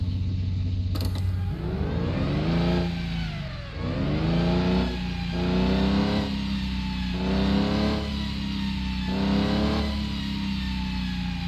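Car engine in Car Parking 2020 revving in repeated rising surges while reversing, with steady mid-pitched drone and creaky tonal layers, loud and close throughout.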